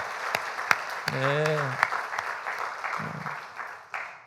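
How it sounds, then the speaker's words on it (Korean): A church congregation at a Sunday morning service gives steady applause that swells and then fades, while a voice briefly speaks over it. "방송부를 위해서 우리 격려하며 박수 한번 하겠습니다"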